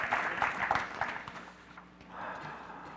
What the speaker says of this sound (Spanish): ¿Le dan un aplauso al Señor?